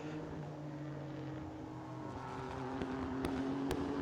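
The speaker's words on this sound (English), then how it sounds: "This is Renault passing Ligier." Race cars at Hockenheimring in a 16-hour endurance race, a Renault passing a Ligier, heard as a steady engine roar with a couple of brief sharper accents near the end.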